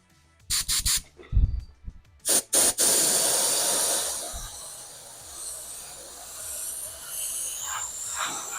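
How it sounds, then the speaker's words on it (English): Short bursts of hiss and handling noise from a spray paint can painting a 1/12 scale RC car body give way to a long, steady spray that fades into a soft, lingering hiss. "Make sure we're spraying strong there."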